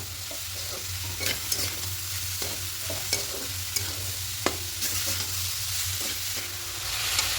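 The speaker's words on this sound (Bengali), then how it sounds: "এবার সমস্ত কিছু খুব ভালো করে মিশিয়ে এভাবে নাড়তে থাকবো" A spoon stirs sugar and cardamom pods in a pan, making repeated scraping strokes over a soft, continuous sizzle, with no voices.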